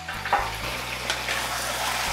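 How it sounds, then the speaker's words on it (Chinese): Squid stir-fried in a wok with ginger and scallion, a loud steady sizzle under scraping stirs, with a hum running throughout and no talking. "直接把一大盆鱿鱼下锅"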